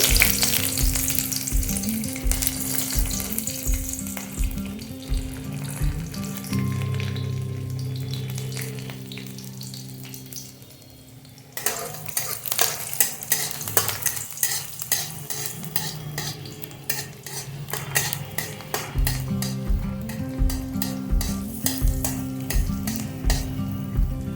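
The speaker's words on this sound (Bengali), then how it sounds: "তেলটা গরম হতে দেব ঠিক আছে আমি দিয়ে দেবো রসুন" Garlic frying in hot oil in a pan while preparing a bean, potato, eggplant and tomato bhorta: loud, steady sizzling alongside rhythmic scraping strokes of a spatula, with a quieter stretch near the middle.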